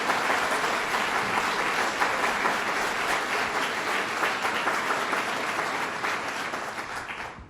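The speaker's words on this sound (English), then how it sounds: "Let's give them a big round of applause." Audience applause at a government jobs announcement in Western New York, a loud sustained burst of many hands clapping that stays full throughout and tapers slightly at the close.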